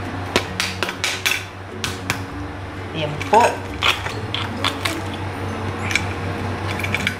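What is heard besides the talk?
crunching crispy air-fried pork knuckle (crispy pata)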